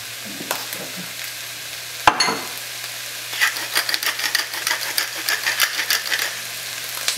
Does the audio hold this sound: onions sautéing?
yes